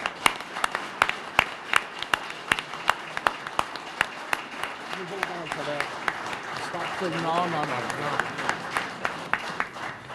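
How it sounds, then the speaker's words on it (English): Scattered, fairly faint clapping from an audience at a heavy rescue in-service ceremony, with sharp separate claps repeating and voices talking and murmuring in the middle stretch. "So, please, round of applause for Mr. Mike Dion."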